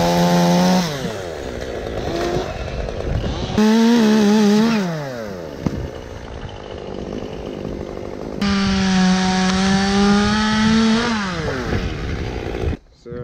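A chainsaw revs up close, whining at high pitch as it bites into tree branches, dropping to idle between cuts, then screaming again through a long cut.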